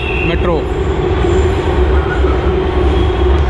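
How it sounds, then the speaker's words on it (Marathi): A metro train runs past with a loud, close, steady rumble and brief wheel squeals near the start, while people talk nearby. "पळया पळया मेट्रो पळया"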